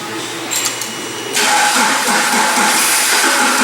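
A Nissan forklift engine with fault code E-28 cranks without starting. After a quieter opening, a loud, steady starter whir runs continuously to the end.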